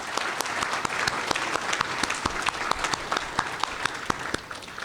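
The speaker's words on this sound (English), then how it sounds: "Please, a big round of applause." Steady audience applause at a State of the City address, with many individual claps standing out, sustained throughout at moderate loudness.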